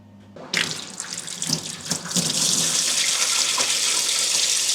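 Campsite sink tap running water into a basin, opening with a few splashing bursts before settling into a steady, close rushing stream.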